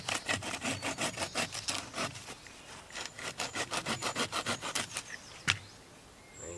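A blade works a piece of wood for a bushcraft pot hanger outdoors in steady, rhythmic rasping strokes, about two dozen close scrapes with a brief pause midway, quiet and without talk.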